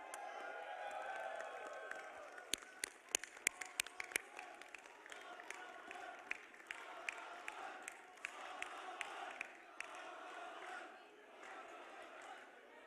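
Audience at the POCOPHONE F1 product launch applauding Xiaomi Indonesia colleagues: a steady crowd roar with clapping and sharp bursts, some cheering, lasting throughout and tapering near the end.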